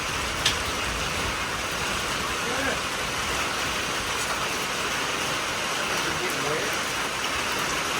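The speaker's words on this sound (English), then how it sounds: "We needed this rain." An afternoon storm pours steady rain, a dense, even hiss of falling water that holds constant with faint voices and a few soft knocks in the background.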